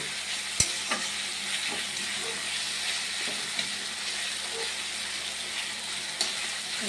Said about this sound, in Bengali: টমেটোটা ভালো করে মেশানো পর্যন্ত নাড়াচাড়া করতে হবে, না তো কাঁচা গন্ধ যাবে।